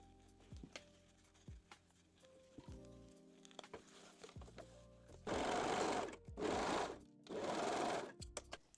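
A sewing machine stitches the side seam of a lace thong, starting with a few quiet clicks and short runs and then three loud, fast whirring bursts of stitching, close up, with no talking.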